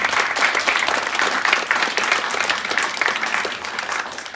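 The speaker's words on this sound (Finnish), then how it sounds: "Annetaan ja antakaa itsellenne applaus" Sustained applause from a live audience at a pre-Christmas party show in Outokumpu, dense steady clapping filling the whole stretch at even loudness with no voice over it.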